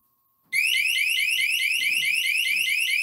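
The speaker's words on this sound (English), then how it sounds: "We've got the alarm going in case anybody wants to come in and out of this room" A motion-triggered room alarm suddenly starts after half a second of silence, blaring a loud, continuous, rapidly repeating electronic warble that holds steady to the end, with faint low thumps beneath.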